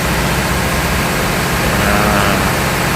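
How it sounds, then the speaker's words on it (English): An emergency diesel generator engine runs at load test, a loud, steady, unbroken rumble and roar that holds its level throughout with no pauses and no voices. "As you can see, it's already started. The engine is started"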